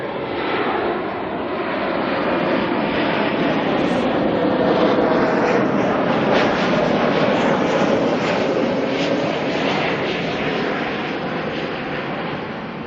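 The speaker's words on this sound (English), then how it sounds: "Let's get this 321 Neo coming on in" An Airbus A321neo jet airliner arriving at Auckland Airport from Brisbane, producing a loud, sustained engine roar with a whining tone that builds gently, peaks in the middle and eases off slightly, heard alone without talk.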